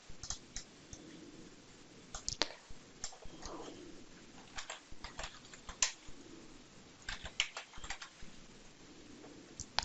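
Quiet, close computer clicks come in irregular bursts, sharp single and double taps with short pauses between them, like a mouse or keyboard being used at a desk, with no voices.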